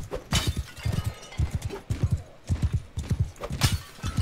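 Rapid rhythmic hoofbeats of a horse galloping in the medieval combat game Mount & Blade II: Bannerlord, loud and steady throughout, with faint other game sounds behind.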